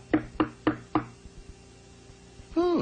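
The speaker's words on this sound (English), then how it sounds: "it sounds as if there's someone at my door" Four firm, evenly spaced knocks land on a door up close, followed by a short quiet pause before a voice begins at the end.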